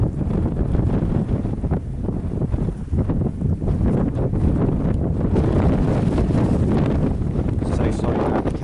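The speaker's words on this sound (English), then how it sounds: "It is absolutely so windy." Strong wind buffets a camera microphone outdoors in Cyprus during a large fire, a loud continuous low rumble filling the whole clip, with a voice talking underneath.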